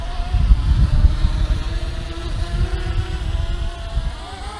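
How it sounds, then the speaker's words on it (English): A DJI Mavic Mini drone climbs straight up under full throttle, its small propellers giving a steady thin whine over gusty, rumbling wind noise on the microphone, moderately close and without voices. "I'm going to throttle it straight up."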